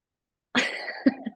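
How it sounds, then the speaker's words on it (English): A single close, sharp cough with a short second burst, heard alone in a quiet room during a podcast conversation. "Sorry, I'm gonna cough."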